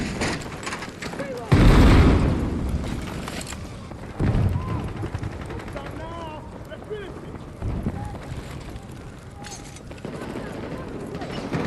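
A frag grenade blast in a winter-update multiplayer shooter: a loud, low boom at about two seconds, followed by scattered gunfire and battlefield rumble, with a second thud near four seconds and game voice lines mixed throughout.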